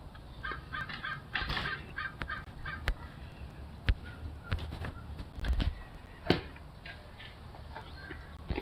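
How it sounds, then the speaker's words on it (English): A group of crows cawing from treetops, repeated harsh calls scattered irregularly at middle distance, some louder and nearer, over a faint outdoor background. "Yeah, all the crows are up here."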